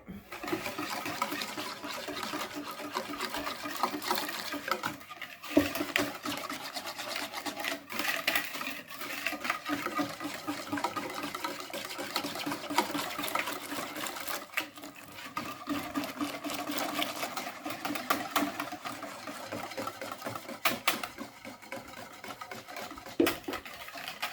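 A SEB Multi Delices appliance mixing a coffee and chocolate dessert cream, giving a continuous close, busy churning and whirring with liquid movement that holds steady throughout, with faint voices underneath.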